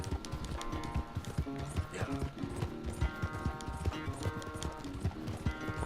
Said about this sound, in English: Esse cavalo é muito rápido, mais rápido do jogo.